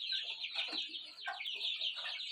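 Chickens in a new coop cluck in a quick, busy series of short calls, close and fairly soft, with no talk over them.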